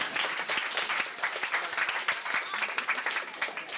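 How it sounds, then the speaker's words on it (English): Audience applause at a 1991 Café Largo talk in Hollywood, a dense steady wash of many hands clapping close and loud throughout, with no speech over it. "How about a round of applause for it?"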